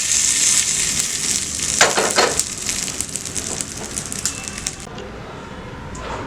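Hot tempering poured onto yam chutney with asafoetida gives a loud crackling sizzle with brief bursts of popping, then slowly fades toward quiet; no voices.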